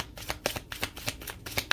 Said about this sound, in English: I wanted to keep shuffling it out.